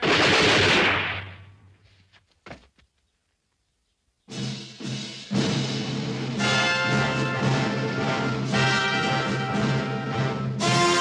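Gunfire from a volley of rifles in a 1967 western erupts after a loud opening blast and a silence, then a sustained crackling fusillade with scattered louder shots and heavy rumble, backed by dramatic orchestral score.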